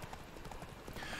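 Horse hooves clip-clopping in The Witcher 3 during a horse race, a quiet, steady trotting rhythm of repeated hoof strikes with no voices.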